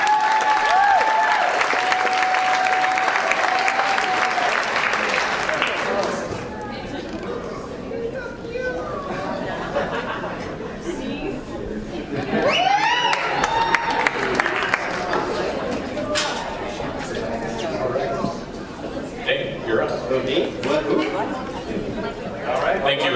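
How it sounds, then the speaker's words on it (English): Sustained audience applause at an annual celebration and installation award ceremony, loud and dense at first, then easing into lighter clapping mixed with crowd chatter, with voices heard throughout. "one more round of applause for our"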